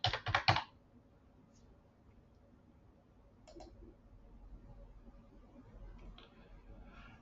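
Quick clicking keystrokes on a computer keyboard come in a short close burst as a password is typed, then only a faint hum remains.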